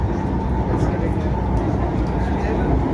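Steady rumbling drone of a Pune Metro train running, a constant loud hum and rail noise throughout with no breaks.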